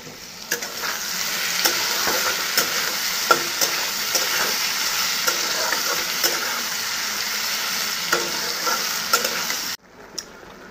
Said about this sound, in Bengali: তার সাথে পাঁপড়গুলো ভেজে নিলাম।